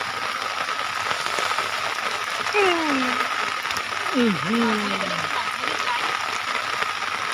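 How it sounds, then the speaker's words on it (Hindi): Heavy rain pours over a farm field where goats shelter, a steady dense hiss throughout, with a couple of brief, close animal calls rising above it around the middle. "बारिश आ रही है बहुत भयंकर, आप खुद देख सकते हो"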